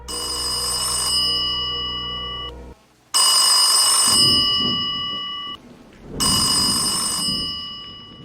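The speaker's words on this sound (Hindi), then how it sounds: "टेलीफोन की आवाज से मेरी नींद टूट गई" An old-style telephone bell rings in three long bursts separated by short pauses, loud and metallic, with no voices.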